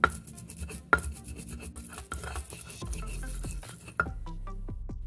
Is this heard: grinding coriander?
yes